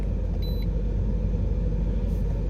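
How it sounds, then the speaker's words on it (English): A Nissan Titan pickup truck on the move, its steady low engine and road rumble running continuously with a faint brief beep partway through. "We are going to take it for a drive"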